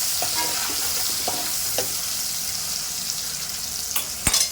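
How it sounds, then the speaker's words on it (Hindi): Chopped onions sizzle and crackle steadily in hot spiced oil for a fish head soup, a close, continuous frying hiss with a few sharp utensil clicks near the end. "ये देखिए यहाँ पे मैंने प्याज जो कट करके रखी हुई थी ये डाल दी।"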